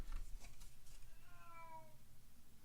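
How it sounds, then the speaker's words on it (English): A house cat meows in the background during a workshop adhesive demo, a short rising-and-falling call that is faint and distant over low room noise. "And there's my cat in the background."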